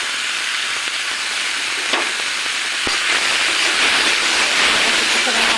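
Salt, chilli, turmeric and coriander powder fry in oil for a potato and fish curry, a loud steady hissing sizzle with a couple of stirring scrapes, building slightly toward the end.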